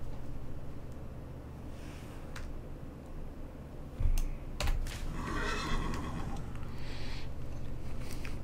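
A horse neighs in the motorbike game Trials Fusion, a loud whinny cutting through a steady droning background of engine and music, with a second shorter call right after.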